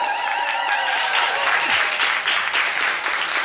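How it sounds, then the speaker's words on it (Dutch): Audience applause on a Limburg regional TV talk show after a musical performance, steady dense clapping that fills the room and carries on evenly at moderate loudness, with some whistling or cheering tones riding over it. "Mag u nog één applaus voor deze dames en heren?"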